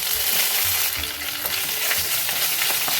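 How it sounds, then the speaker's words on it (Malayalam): Fennel seeds, dried red chillies and curry leaves fry in hot oil for a squid dish, giving a steady, close, loud sizzle with crackles and faint stirring scrapes, with no voices. "കുറച്ച് ഉണക്കമുളക് ഇട്ട് കൊടുക്കുന്നുണ്ട്. കുറച്ച് വേപ്പില ഇട്ട് കൊടുക്കുന്നുണ്ട്."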